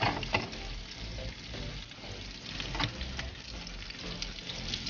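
Yellow onion frying in a pan gives a steady, close crackling sizzle with occasional louder pops and stirring scrapes, running throughout without talk.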